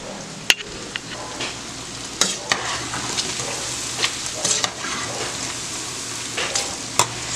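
Pork fat frying into cracklings in a pan, a close steady sizzle punctuated by sharp pops and occasional spoon scrapes, with no talking.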